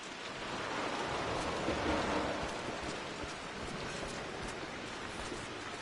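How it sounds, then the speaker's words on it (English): Steady, dense rainfall in the Rise of the Tomb Raider video game, a broad continuous hiss of drops pouring down evenly for several seconds with no speech over it. "Why is it always raining?"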